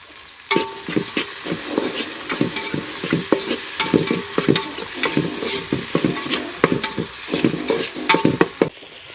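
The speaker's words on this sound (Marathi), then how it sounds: "कांदा हलका ब्राऊन झाला आहे त्यामध्ये आता टोमॅटो टाकून घेऊ" Onion and tomato fry in a pan over a wood-fired stove for a crab masala, heard as a continuous sizzle under rhythmic, close scraping and stirring strokes, with no one speaking.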